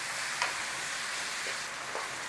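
Minced beef seasoned with black pepper and salt browns in a pan, giving a soft, steady sizzle with a few faint stirring scrapes, alone and fairly quiet.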